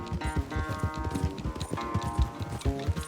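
A horse gallops in the video game Red Dead Redemption during a race, its quick clip-clop hoofbeats driving a steady rhythm under a layer of music.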